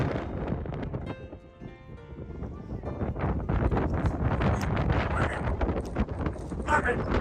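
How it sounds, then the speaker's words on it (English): Strong gusting wind buffeting the microphone on the summit of Pikes Peak, a rough, roaring rumble that swells and persists, with voices talking under it. "Oh, this wind takes your breath away"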